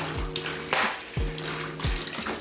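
Water poured into a bucket to mix drywall joint compound, a close splashing gush with several heavy sloshing surges in quick succession, no talk.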